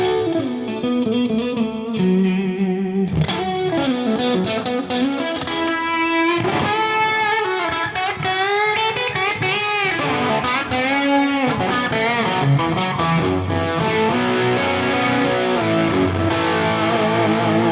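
Electric guitar played through a Marshall-type amp model on a Fractal Audio FM9 floor modeler, shifting between chords and single-note lines with some sustained distorted passages, loud and up close with no talking.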